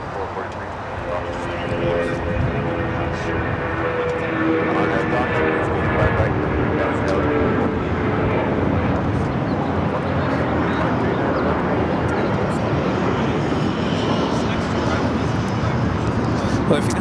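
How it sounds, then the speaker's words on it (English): A United Airlines Boeing 757-200 bound for Newark takes off from the south side at LAX, its jet roar building into a broad, sustained rumble and whine under nearly continuous talking. "Next takeoff here on the south side, United Airlines flight 1194 heading to Newark. It's a 757-200."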